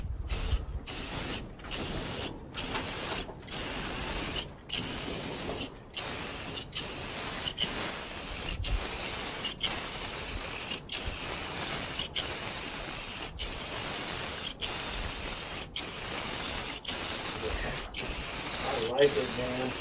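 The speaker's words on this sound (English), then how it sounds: "we're just going to put the clear on there, the gloss, Rust-Oleum clear gloss" Aerosol can of Rust-Oleum clear gloss sprayed onto a carved redwood sign: a steady close hiss broken by many brief pauses between bursts, about a dozen repeated passes over twenty seconds.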